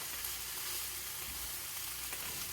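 Shredded cabbage fries in a pan with a steady, dense sizzle that holds evenly throughout, close and alone with no voices.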